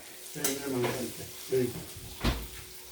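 Broad beans frying in a pan for curry, seasoned with salt and chili powder, with a soft sizzle and a few stirring scrapes, while a voice speaks over the cooking.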